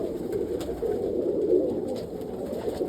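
Roller pigeons cooing inside a loft, a steady, continuous low murmur of many birds close by with no talking.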